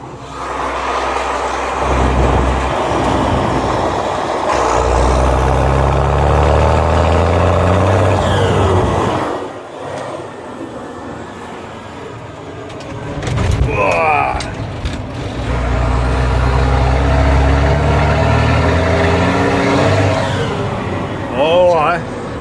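Diesel engine of a tractor with its Bosch fuel pump turned up, a loud low rumble that surges and revs in several bursts, dipping to a quieter idle between them, close by with a voice heard briefly.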